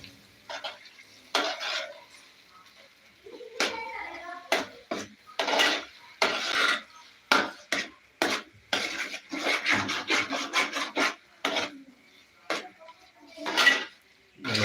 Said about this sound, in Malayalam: നമ്മൾ ഈ പായസക്കടല നമ്മൾ ഉരുളിയിലേക്ക് ഇട്ട് കൊടുക്കും എന്നിട്ട് ഒന്ന് നന്നായിട്ട് ആ നെയ്യുമായിട്ടൊന്ന് മിക്സ് ചെയ്യാം